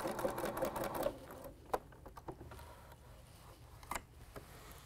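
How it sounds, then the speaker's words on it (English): Sewing machine stitching quilt binding on a table runner: a quick, close run of rapid stitching at the start, then quiet handling with a few soft clicks and taps as the fabric is shifted. "and sew straight off the point"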